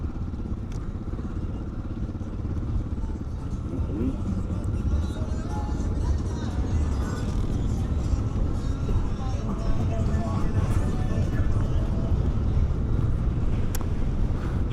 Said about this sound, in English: because we are riding the bike back home as opposed to the truck